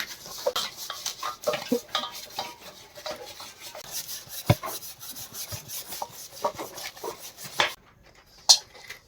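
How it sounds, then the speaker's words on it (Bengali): Pangas fish skin being scrubbed clean with rough khoksa leaves, a close, continuous series of scratchy rubbing strokes in irregular rhythm, with a few sharper scrapes and a brief pause near the end. "এখন আমি খোকসা পাতা দিয়ে ময়লাগুলো পরিষ্কার করে নেব।"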